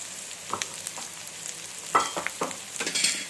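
Turmeric, chili powder and salt being stirred into chicken frying in a pan, with soft scraping strokes and light sizzle, a few sharper clinks of the spoon against the pan.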